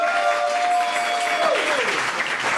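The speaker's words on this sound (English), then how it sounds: "Give a round of applause." A comedy roast crowd in a New York club breaks into steady applause, a dense even clatter of many hands throughout, with a held tone gliding down partway through.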